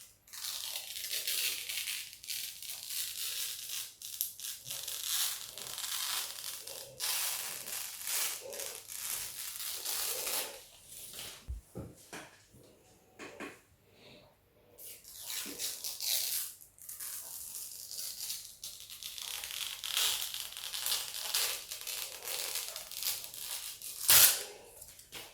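Protective plastic film peeled and crinkled off Creative Gigaworks T40 Series II speakers, close and crisp, with long rasping tears, crackling bursts and brief pauses, one sharp snap near the end, no talking.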